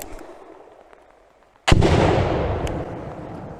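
A FORT-600 Gen.2 grenade launcher fires a single shot: one sudden, loud, close blast breaks a near-silence and then rolls away in a long, decaying rumble.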